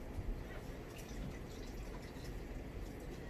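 Cold water poured from a tap into a pan of cooked meat and taco seasoning for taco pasta, a steady close splashing fill running throughout with faint kitchen clatter.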